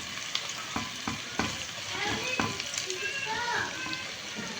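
Chicken pieces go into garlic frying in a pan, producing a close, dense sizzle with rhythmic stirring knocks and a few louder crackles as the frying continues.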